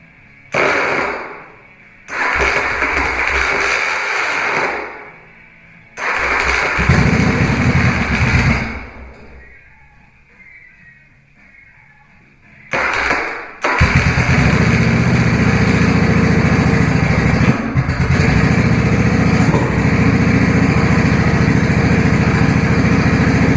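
A Yamaha Virago XV920 motorcycle with messy wiring and freshly cleaned carbs being started for the first time, several cranking attempts with pauses between, then the engine catches and runs steadily and loudly to the end.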